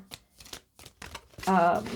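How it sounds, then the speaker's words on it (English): A tarot deck is shuffled in quick riffling bursts, brief papery flurries spread through the moment before a person starts talking over the final stretch. "Let me just pre-shuffle for a second."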